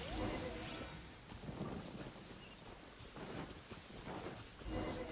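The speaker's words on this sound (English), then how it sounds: "Uh-oh! Lightning storm!" A lightning storm in the video game Genshin Impact, with steady heavy rain and rumbling thunder under a continuous wash of noise, sharper crackles near the start and end.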